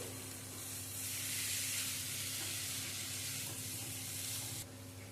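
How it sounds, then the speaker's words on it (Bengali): Already-fried potatoes are sautéed with baim fish in a spiced oil masala for a rasa curry, making a continuous close sizzle with stirring that brightens for a few seconds, then drops back near the end. "এখন এই অবস্থায় দিয়ে দিচ্ছি ভেজে রাখা আলু। আলু দিয়েও কষিয়ে নেব।"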